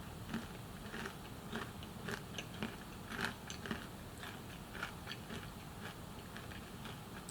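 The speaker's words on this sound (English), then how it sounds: "This is the crunchy kind. This is almond Florentine cookies." Crunchy almond Florentine cookies are bitten and chewed close up, giving a series of soft, irregular crisp crackles and crunches over a quiet background hiss.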